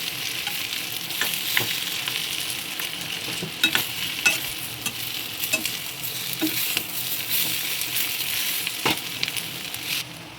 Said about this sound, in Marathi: सर्व मिश्रण एकत्र करून घेतो